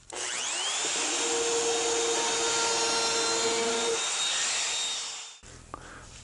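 A router fitted with a bevel bit trims the edge of Formica laminate, giving a loud, steady high whine with a gritty cutting edge for about five seconds before it cuts off and winds down.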